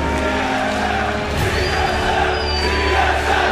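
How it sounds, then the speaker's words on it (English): Loud, continuous crowd roar fills an esports arena during a League of Legends semifinal match, a dense steady wash of cheering with no clear breaks. "as you can hear the crowd cheering"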